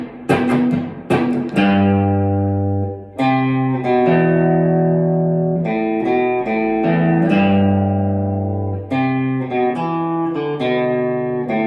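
Electric guitar playing a riff, with clear picked notes and ringing chord stabs in a bouncy, repeating pattern, played up close and loud without any talking.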